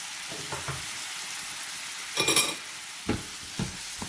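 Whole canned tomatoes go into a sizzling prawn karahi masala, giving a steady frying hiss punctuated by a few bursts of spattering and stirring clinks against the pan.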